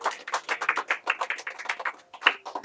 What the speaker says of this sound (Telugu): చప్పట్లు కూడా దేవునికి స్తోత్రం చెప్తాం.